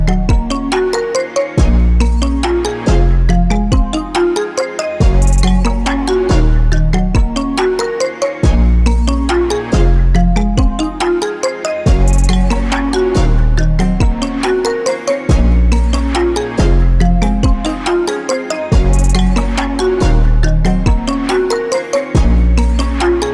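A toy mobile phone plays a loud, repetitive electronic tune with a steady looping beat, ringtone-like and uninterrupted for the whole stretch, with no voices.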